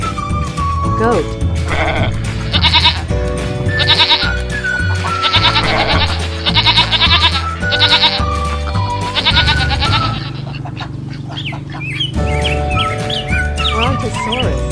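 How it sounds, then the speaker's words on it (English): A goat bleats in repeated loud, wavering cries over lively background music, the calls coming in several bursts before a short pause and then resuming. "Goat."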